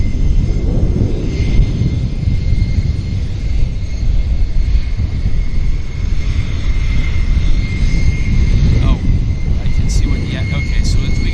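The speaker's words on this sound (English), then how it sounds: "we got a FedEx here landing middle" A FedEx plane lands at Vancouver airport, its steady broadband engine roar droning continuously and fairly loud throughout, with a faint voice talking now and then over the noise.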